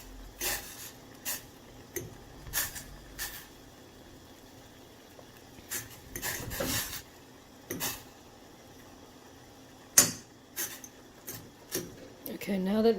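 Fork stirring Maggi noodles in a pot over high heat, giving light, irregular scraping and tapping clicks with scattered sharper knocks, fairly close but quiet, with no talk.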